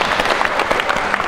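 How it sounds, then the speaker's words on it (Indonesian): A crowd at a Ramadan talk bursts into loud, dense applause, a steady close wash of many hands clapping together for just over a second with no voices. "Tepuk tangan."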